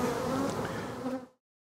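Honey bees buzz close by at summer hives in Appalachia, a dense steady hum that cuts off after little more than a second, with no voices.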